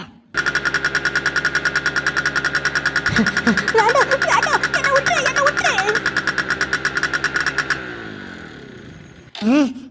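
A cartoon vehicle's engine starts up by itself with a loud, rapid rhythmic chugging that holds steady for several seconds. Playful effect sounds rise over it midway, then the chugging fades into a short final burst.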